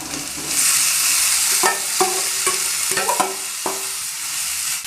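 Vegetables with ginger for a samosa filling sizzle and fry in a pan with a steady hiss, broken by several scraping stirs of a spatula; no one speaks.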